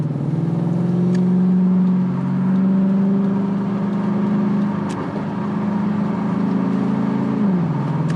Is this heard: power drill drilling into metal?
no